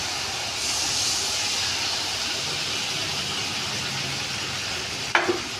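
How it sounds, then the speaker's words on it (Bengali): Coconut milk is poured into a hot pan of banana flower kofta, giving a steady, fairly loud sizzling hiss throughout. A brief sharp clank comes near the end. "কষা হয়ে গেছে, এবার আমি নারকেলের দুধটা দেব"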